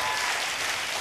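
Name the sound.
audience applause at talent show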